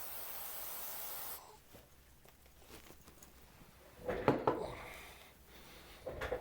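Carburetor cleaner sprayed onto the circuitry of a Radio Shack EC 3006 thermal printer calculator: a steady close hiss for over a second, then quiet handling clatter and a few short bursts later.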